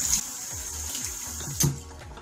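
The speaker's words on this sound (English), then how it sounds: "let's wash our hands" Water running from a bathroom tap during handwashing, a steady close hiss with a brief louder splash partway through.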